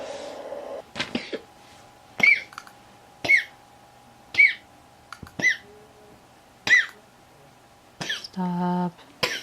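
Repeated coughs from a person, about five short sharp bursts spaced roughly a second apart, close and moderately loud over a quiet background with a steady faint hum, ending with a brief squeak-like tone.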